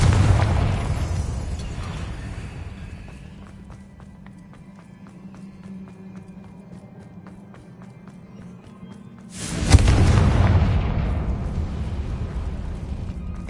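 A Confringo spell explosion in the Hogwarts video game bursts loudly near the end, a sudden booming blast that decays into a rumbling tail after a quieter stretch of low ambience.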